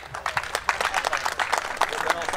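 Applause from the crowd at a village picnic in Turkey: quick, dense clapping from many hands, fairly close and brisk, lasting only a couple of seconds.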